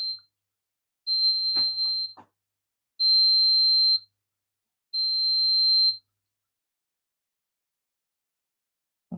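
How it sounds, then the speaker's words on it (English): Three long, identical high-pitched electronic beeps from a Silver Crest mini air cooler when plugged in, at even intervals, each about a second, with a faint click between and silence after. "It made a beeping noise."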